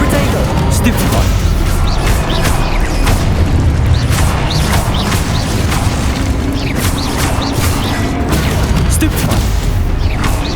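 Stupefy spells cast in Hogwarts Legacy during a fight: loud, dense magical blasts and booming impacts crackle one after another, without a break, across the whole stretch.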